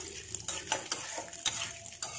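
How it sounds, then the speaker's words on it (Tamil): Urad dal and chana dal fry in oil in a pan with a soft, steady sizzle, broken by light scrapes and clinks of a spoon against the pan while they are stirred, fairly quiet and close. "ஸ்மெல் ஒரு அரோமா வர வரைக்கும் நல்லா ஃப்ரை பண்ணிக்கலாம் ஆயிலில்."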